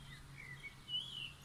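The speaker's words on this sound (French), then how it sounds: "Écoutez les oiseaux." Faint birds sing at a distance in open nature, a few thin high chirps and short trills rising over a quiet background hum, with no voices present.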